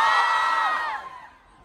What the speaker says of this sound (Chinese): 现场有买过 Dangerous People 的朋友们来点尖叫吧